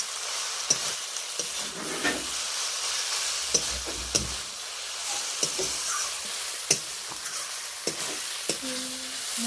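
A paste of onion, tomato, ginger and spices fries and is stirred in a pan for a tengra fish curry, with a constant sizzle broken by regular sharp spatula scrapes and taps.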